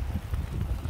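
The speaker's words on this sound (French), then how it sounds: "Le vent souffle tellement." Strong wind blowing across the microphone outdoors during a bike ride, a steady low rumbling buffet with irregular gusts throughout.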